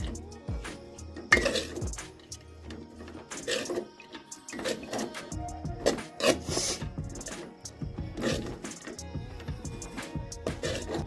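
A spatula rasps and knocks against a pan while noodles are mixed with spice powder, irregular close scraping strokes and metallic taps repeating steadily with no talking.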